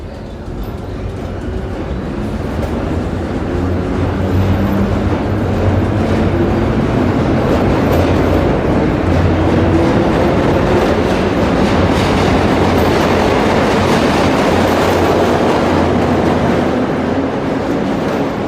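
An MTH R1/R9 model subway train with ProtoSound 3 sound runs continuously, giving a steady, loud rumble with rhythmic clickety-clack of wheels over rail joints throughout.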